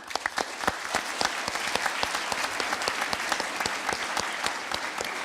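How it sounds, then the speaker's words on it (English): An audience at the MineCon 2012 convention claps for the server members, a dense, steady round of applause filling the hall without a break. "So I'm going to clap for the server members."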